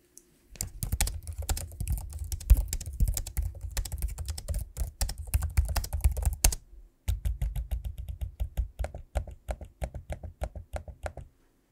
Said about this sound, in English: here's a quick sample of me using the keyboard and trackpad so you can hear how that sounds